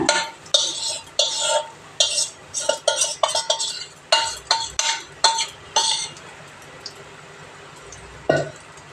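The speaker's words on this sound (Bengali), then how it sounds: "তেলের মধ্যে সরষের তেল দিয়ে এই যে একসঙ্গে এটা ভেজে দিচ্ছি।" Pointed gourd fried in mustard oil is stirred in a pan, giving a run of sharp rhythmic scraping and clinking strokes over a quiet sizzle, close and fairly loud, fading to sparse knocks toward the end.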